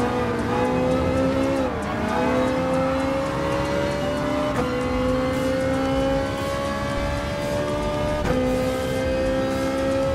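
Race car engines in the video game Gran Turismo Sport, a loud steady whine that climbs in pitch and then drops at each gear change, roughly three shifts, with a constant mechanical drone underneath.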